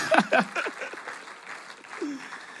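A church congregation applauding and cheering in acclaim of Jesus, with brief voiced shouts and laughter over a short burst of clapping that fades.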